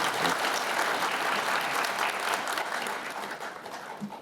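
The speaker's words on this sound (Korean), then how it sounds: "모두 환영하는 박수 부탁드리겠습니다" A crowd of local residents at a Seoul policy debate forum gives welcoming applause. The sound is a full, dense clapping that holds strong at first and then gradually thins and softens toward the end.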